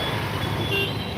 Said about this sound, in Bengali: বাইরে এসছি গাড়ির আওয়াজ হচ্ছে